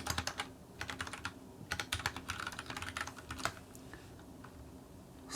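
Quick bursts of typing on a computer keyboard, close and crisp keystrokes in clusters with short pauses between.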